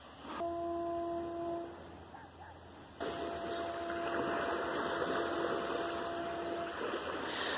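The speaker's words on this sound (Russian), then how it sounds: "слышала гудки теплоходов, лайнеров и парома" Deep, long horns of motor ships, liners and a ferry sound across open water near the shore, one blast fading then another starting, over a steady wash of wind and waves.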